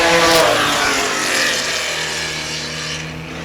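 Porsche sports cars in the over-2.0-litre class race past on a road course, engines loud and close, starting at a roaring peak before fading into a steady drone as they pull away.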